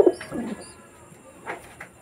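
Pigeons in a breeder cage with young give a few soft, close coos in two short bursts, separated by quiet room hiss.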